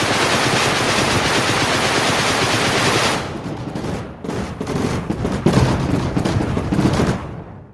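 A barrage truck firing in Silica, a dense roaring stream of rapid shots for about three seconds, then continued crackling bursts and impacts of shifting loudness before fading out.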